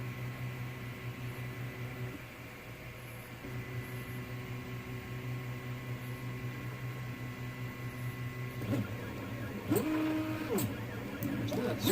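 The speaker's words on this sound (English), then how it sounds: "So what I'll end up doing is printing out 2 of these" A 3D printer hums and whines through steady stepper-motor tones while printing end pieces for a filament dry box, a close continuous mechanical drone with shifting pitches and a brief rising sweep near the end.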